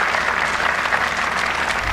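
Spectators at a WTA 125 tennis match in Mumbai applaud after a point, a brief, even burst of crowd clapping that stays loud throughout.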